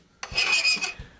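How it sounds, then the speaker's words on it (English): A single long rasping stroke of a metal file squarely across the top of a steel rifle bolt head, close and fairly loud, with a soft knock at the start and end. "I'll spare you most of the filing, but just be a nice square stroke right across the top"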